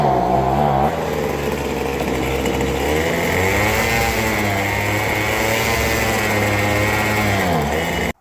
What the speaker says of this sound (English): Leaf blower engine.